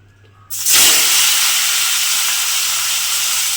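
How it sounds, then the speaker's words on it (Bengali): Tilapia fish drop into hot oil with a sudden loud burst of hissing sizzle after a quiet moment, then the frying settles into a strong, steady roar close by. "এইবারে আমি মাছগুলোকে তেলের মধ্যে দিয়ে ভেজে নেব।"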